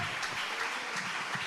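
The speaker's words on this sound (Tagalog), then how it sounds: "Palakpakan natin ng malakas na palakpak." A church congregation at a preaching service claps loudly, a dense, sustained burst of applause with no voices over it.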